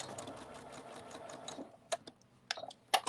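A sewing machine runs steadily for about a second and a half, stitching back and forth over the arm of a fabric cuddle bunny, then stops and gives way to a few sharp clicks and handling taps, all close by.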